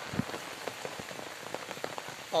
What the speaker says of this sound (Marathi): आमच्याकडे तर लय पाऊस चालू आहे, कारण की हा बघू शकता पाऊस